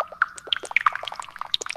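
Tomato juice poured from a can or bottle with a funny dribbly sound: a scattered run of small wet plinks and drips, close and fairly quiet, with no voices.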